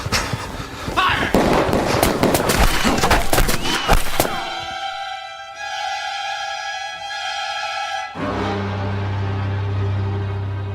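A rifle volley from a firing squad in a radio drama: a dense burst of loud, cracking gunfire that cuts off abruptly, followed by a ringing tone and then a low sustained rumble.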